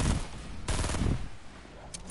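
Video game sniper rifle fire, a few loud sharp shots and short bursts close together over about two seconds, with no talk.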